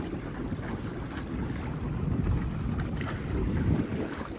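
Sailing dinghy moving through open water in the wind, a steady rush of water and wave wash with gusty wind buffeting the microphone, no voices.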